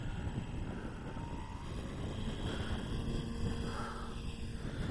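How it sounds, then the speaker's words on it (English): Steady wind rushes across an open RC model flying field, blowing straight down the runway, a constant broadband roar with microphone buffeting and no clear speech over it. "Now the wind's blowing right down the runway."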